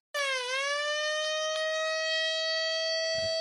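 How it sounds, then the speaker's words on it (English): A beeping softball for the blind with a weak battery gives a loud, continuous electronic tone with rich harmonics, dipping briefly in pitch then holding steady like a siren, ending with a faint clatter. "including this, a beeping softball"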